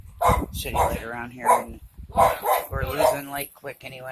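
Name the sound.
dogs barking in the background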